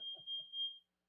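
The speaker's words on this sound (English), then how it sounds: "it's picking up on the beeps too" A smoke alarm sounds indoors: a steady high-pitched electronic beep held for most of a second while faint muffled talk passes underneath, then it cuts off into silence.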